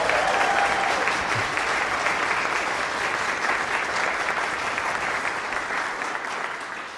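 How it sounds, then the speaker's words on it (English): Church congregation applauding the children during a worship service, steady dense clapping that fades slightly toward the end. "Can we get another round of applause for them?"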